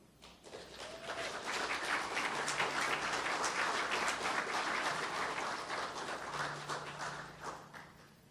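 Sustained audience applause at an anniversary hall of fame banquet welcoming a state representative, a full room clapping steadily for several seconds, swelling quickly and fading near the end.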